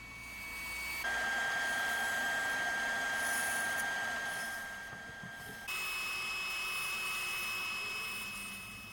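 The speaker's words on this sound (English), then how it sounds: "I'm just using the bandsaw to rough out some cuts" A bandsaw roughing out cuts in walnut trim pieces runs as a steady whining drone with a high tonal ring, shifting pitch as the blade loads and unloads through the wood, with a brief dip midway before resuming at a different tone.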